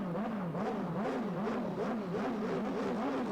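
Turbocharged drag racing motorcycles rev at a 1987 drag bike national meet, making a loud, continuous engine buzz whose pitch rises and falls in a steady wavering rhythm, with no voices.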